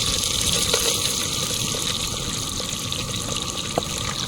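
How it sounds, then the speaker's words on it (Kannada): Onions drop into hot oil with spices in a pan, giving a steady, loud, hissing sizzle that continues evenly throughout, close by and without speech. "ನೆಕ್ಸ್ಟ್ ಈರುಳ್ಳಿನ ಹಾಕ್ತಾ ಇದ್ದೀನಿ."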